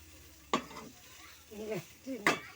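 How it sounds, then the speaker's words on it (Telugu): Drumstick curry frying in a pan at home makes a quiet sizzle punctuated by a few sharp metal clanks and scraping strokes from a spoon stirring against the pan. "మా వదిన వంట చేస్తుంది, మునిమేకల కూర ఫ్రై చేస్తుంది"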